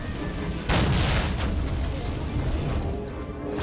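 Grenades explode in the video game Soldier of Fortune, one heavy booming blast hitting suddenly and rumbling away, with a voice talking over the game sound.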